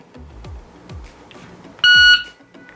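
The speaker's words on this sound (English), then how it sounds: "I've got a 2-second par timer set there, so you can hear that beep." Pocket Pro II shot timer from Competition Electronics gives one loud, steady electronic beep of about a third of a second, set as a 2-second par signal, standing clearly above quiet background handling noise.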